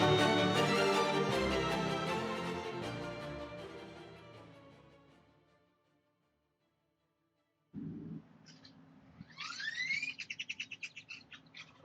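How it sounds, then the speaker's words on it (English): Birds chirp near the Grapevine Vintage Railroad in Texas, a quick run of bright rising tweets following a fading ringing tone and a brief silence. "And those birds are mocking me."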